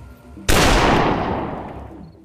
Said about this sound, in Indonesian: Jack dan Hurley terkaget mendengar suara tembakan.